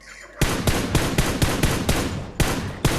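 Rapid bursts of PUBG Mobile gunfire, about eight sharp loud shots in an irregular rhythm after a brief quiet start.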